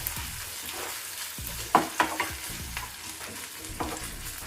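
A spoon stirs ground gongura paste into rice frying in a pan, making soft sizzling under a handful of scraping, clacking strokes spaced about half a second apart, close by and with no talk.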